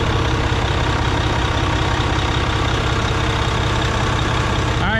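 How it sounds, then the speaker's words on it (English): Mack Pinnacle CXU613 truck idling with a steady, even diesel rumble, loud and close, running alone with no voices. "Alright, she idles nice and smooth."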